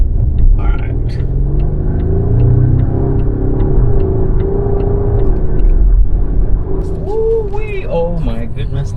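Volvo S60 Recharge hybrid accelerating hard in power mode, a loud cabin rumble of engine and road noise building steadily, with a brief excited voice near the end.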